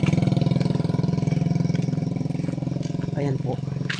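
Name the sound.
motorcycle passing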